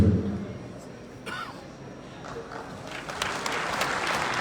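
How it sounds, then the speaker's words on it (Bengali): Audience applause at a quiz prize-giving ceremony, moderate clapping from a crowd that thins and then builds again, heard under a speaking voice over a hall sound system. "আরেকটু জোরে হাততালি হবে"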